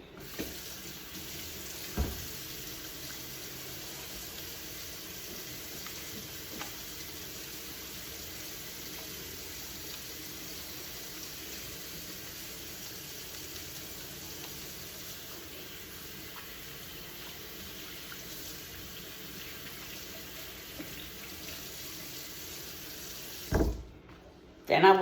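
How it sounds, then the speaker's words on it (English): Hands are washed under a running tap at a sink after disinfecting and wrapping instruments, a steady close stream of water flowing with few breaks, brief clunks near the start and end. "wash my hands"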